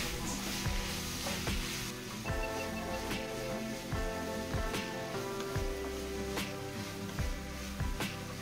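Vegetables for a Maharashtrian tondli-vangi pulav (ivy gourd and brinjal) sauté in a pan, with a soft continuous sizzle and regular spoon scrapes and stirring knocks over faint music.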